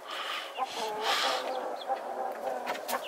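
Several chickens, three roosters and three hens, cluck and chatter close by in short, irregular bursts, with a few sharper squawks mixed in against a noisy outdoor background.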